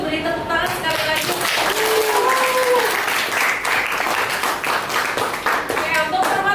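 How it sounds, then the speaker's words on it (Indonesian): Applause from a classroom of students after a group presentation in a math lesson, steady clapping throughout, with some voices talking over it. "beri tepuk tangan sekali lagi"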